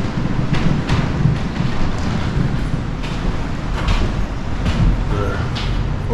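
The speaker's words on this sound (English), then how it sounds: "Feel that wind." Strong wind roars steadily across the microphone at an outdoor fire lookout, a constant low rumble with gusty buffeting throughout and no talking.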